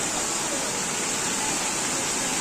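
Floodwater rushes beneath a road during a flood, a steady broadband roar of flowing water that stays loud and unbroken throughout, with no voices.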